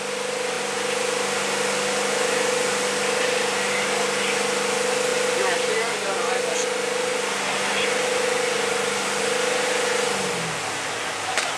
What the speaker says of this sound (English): we have a marine transmission that actually shifts our hydraulic pumps into gear to build pressure